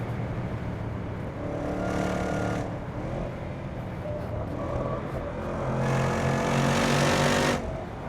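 Jaguar F-Pace SVR lapping the Nürburgring Nordschleife, its engine loud and close from the cabin, revs climbing and falling in two long surges with road roar underneath.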